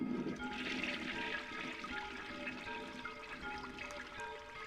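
A toilet flushes in the PS1 remake of the game Yume Nikki, a steady rushing and gurgling wash of water that holds fairly loud from start to finish, slowly easing off, with no talk.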